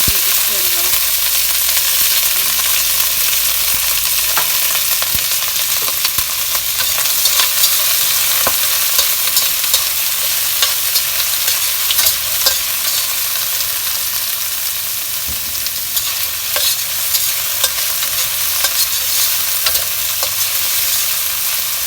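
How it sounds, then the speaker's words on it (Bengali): Chopped onions, garlic and minced ginger fry in a hot pan with a continuous loud sizzle, while a utensil stirs and scrapes through them in irregular soft clicks, close and steady throughout. "এটা বেশি ভুনা করবো না, অল্প একটু জাস্ট পেঁয়াজটা যাতে একটু নরম হয়"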